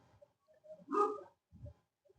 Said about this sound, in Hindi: जैसे अभी पीछे कुत्ते भी भौंक रहे थे